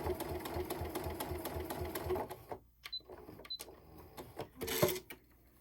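A sewing machine stitches a narrow seam on a mini quilt binding, a fast, even mechanical chatter of needle strokes that stops partway, followed by a few scattered clicks and handling sounds.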